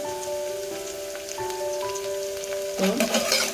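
Slit green chillies sauté in a mix of ghee and oil, a close, steady crackling sizzle like light rain on a surface. A tonal hum runs underneath, and the spatter swells briefly near the end.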